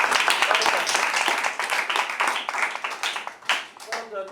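A group of school students at an intraschool debate claps for themselves, a burst of lively, uneven clapping that thins toward the end, with some voices mixed in.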